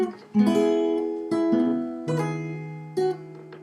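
A fingerpicked acoustic guitar passage from a song tutorial: about five distinct plucked attacks, each ringing and fading before the next, played up close with no talking.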